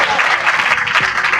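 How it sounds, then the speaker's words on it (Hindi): A church audience claps loudly and steadily, a dense continuous wash of applause close by, with a voice briefly heard under it. "जोर से ताली बजाइए।"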